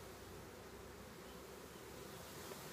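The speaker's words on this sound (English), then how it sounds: "I'm just going to move these bees a little bit." A spring honeybee swarm buzzes as a steady, dense, continuous drone, quiet but unbroken throughout, with no voices.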